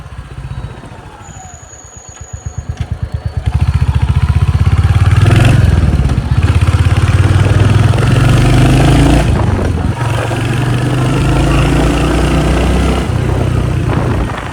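A Royal Enfield Hunter 350 on an empty road late at night. Its engine thumps at idle, then revs up and settles into a loud, steady roar as it rides on, close and dominant throughout.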